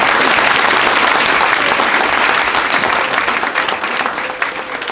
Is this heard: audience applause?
yes